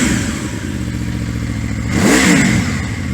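A new motorcycle engine, already warmed up, idles steadily and then revs sharply near the two-second mark, rising and falling loudly through the intake before settling again.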